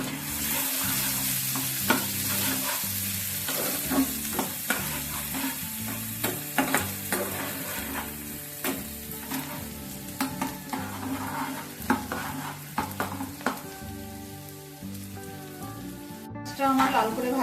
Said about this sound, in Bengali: পেঁয়াজ কুচি, রসুন কুচি, দিয়ে এগুলো ভালো করে লাল লাল করে ভাজবো।